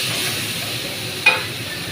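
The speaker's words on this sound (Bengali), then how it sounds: "চিকেনটা আমি কষিয়ে নেব।" Marinated chicken and potatoes cook in a pan with a steady sizzle, and a single brief scrape of a spoon stirring stands out midway, close and even.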